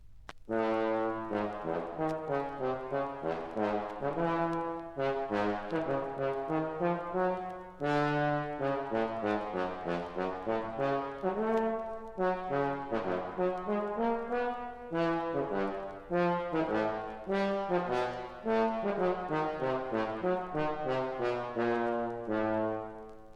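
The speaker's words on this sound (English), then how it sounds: "Here is a characteristic piece for bass trombone from the overture 1812." A bass trombone plays a long melodic passage from the 1812 Overture in detached notes in steady phrases, with short pauses between them.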